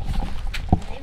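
Horse hooves clip-clopping at a horse-riding attraction in a small village, a few muffled strikes with one firmer near thud, mixed with people talking nearby.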